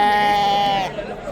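A single drawn-out lamb bleat rings out close by at a busy Wednesday sheep market in Chiroqchi, Uzbekistan, over a low murmur of crowd noise.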